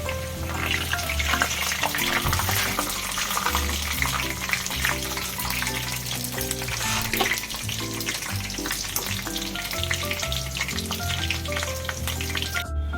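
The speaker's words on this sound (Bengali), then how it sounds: "এই বেরেস্তাটি এবারে ভাজা হয়ে গেছে" Sliced onions deep-frying in oil for biryani berista give a steady, close sizzle that runs without pause under loud background music.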